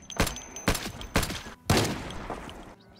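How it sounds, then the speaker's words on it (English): Four loud gunshots from the zombie survival game Project Zomboid, fired through a window in quick succession with even spacing, each with a short decaying tail, no voices. "I think I just shot four through the window"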